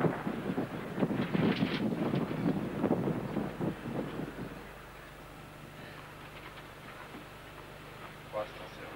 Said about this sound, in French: Le vent qui souffle sur le central actuellement.